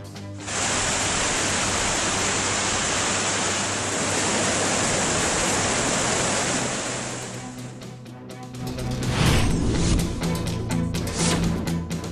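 Kumbakkarai waterfall in flood after heavy rain, a loud, dense, continuous roar of crashing water that stays steady throughout, with a brief shift and some rustling near the end and no voices.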